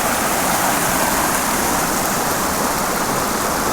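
Small river rapids near waterfalls outside Gambita, Colombia, a loud, steady, close rush of churning water that fills the whole clip without pause.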